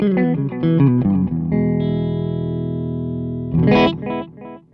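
Electric guitar played through an AboveGroundFX Rebote delay pedal: a quick run of plucked notes, then a long sustained ringing chord, followed by another short burst of notes, loud and close with no talking.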